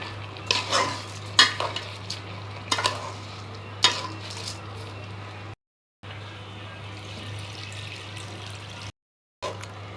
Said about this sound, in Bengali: চালগুলোকে ঢেলে দিব একসাথে ভালো মতো মিক্স করে নিচ্ছি চাল আর মশলাটা